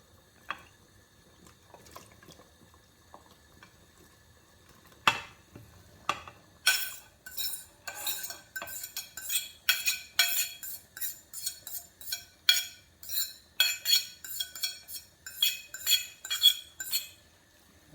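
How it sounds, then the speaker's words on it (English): Chopped seasoning goes into a bubbling pot of Jamaican curry goat and gets stirred, with close, rhythmic scrapes and clinks of a utensil against the pot repeating steadily after a quieter start, and no talking. "now, I'm going to go ahead and add the seasoning that we just chop up"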